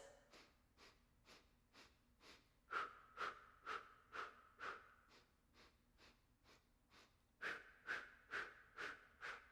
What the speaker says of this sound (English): these short staccato breaths in and then the short staccato breaths out